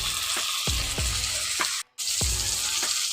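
Tomatoes frying with spice tempering in a hot pan, a loud continuous sizzle with repeated spatula knocks and scrapes, briefly cutting out for a moment midway, close and without talk.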